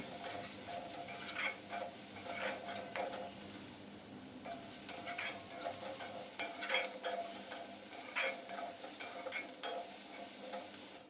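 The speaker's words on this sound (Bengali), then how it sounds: "হলুদ গুঁড়ো দিয়ে দিলাম এখন একটু দু মিনিট একটু এভাবে নেড়ে চেড়ে নেব" Greens fried with turmeric powder in a pan are stirred, giving repeated scraping and clinking strokes over a soft, steady sizzle at moderate loudness.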